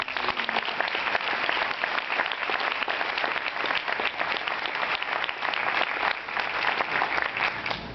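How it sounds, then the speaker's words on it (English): Steady applause from a crowd at a marathon event, honoring the race staff, sustained and fairly even for the whole stretch with no voices standing out. "give them a round of applause"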